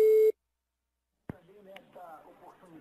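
A steady telephone line tone sounds briefly as a call is placed, cuts off into silence, and then a voice begins speaking.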